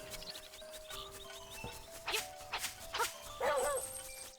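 Small dogs barking and yipping at the kennel in The Legend of Zelda: Link's Awakening, several short game-sound yaps scattered over a quiet background tone.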